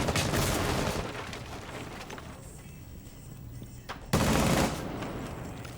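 Heavy gunfire rings out in a competitive video game, with a loud blast near the end suggesting a shotgun shot among dense, continuous weapon fire.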